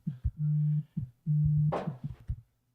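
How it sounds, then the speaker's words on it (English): A phone resting on a table gives off steady low beeps in two long pulses, mixed with buzzing rattles as it vibrates against the tabletop, close by, with a brief rustle partway through. "It's vibrating into the table and it's getting through the table."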